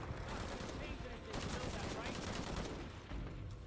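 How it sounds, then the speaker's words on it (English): Machine gun fire in a shooter video game comes as a dense, continuous crackle of rapid shots. It is fairly quiet and steady throughout. "you want to shoot at me with a machine gun, huh?"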